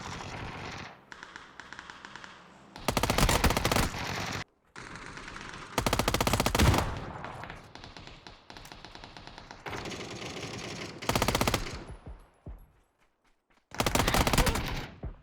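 A JS9 submachine gun fires in PUBG, with several loud, rapid automatic bursts separated by short gaps and quieter game sounds.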